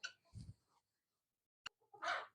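A small rooster and hens fighting on a farm, heard as a few faint, brief clucks and squawks separated by silence, with one sharp click partway through.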